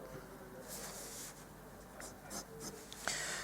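Faint pencil strokes scratch across paper while sketching chair legs in two-point perspective, soft rubbing marks with a few quick ticks, heard close and quiet.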